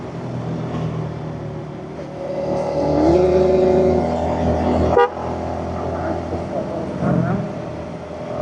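A Honda Supra GTR motorcycle climbs a hill under hard throttle, its engine rising in a swelling whine near the midpoint, with a sharp click or knock and a voice speaking over the riding noise.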